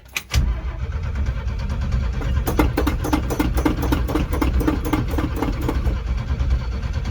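An old car engine cranks and catches, then runs steadily and loud close by with a rough, pulsing idle that continues to the end.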